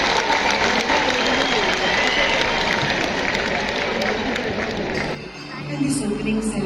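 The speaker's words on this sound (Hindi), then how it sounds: "और जोरदार तालियां हो जाए कलाकारों के लिए," A large crowd at the opening ceremony of India's 38th National Games applauds the performing artists, a broad, roaring wash of clapping and cheering that holds steady, then briefly dips before swelling again, with a voice faintly audible beneath it.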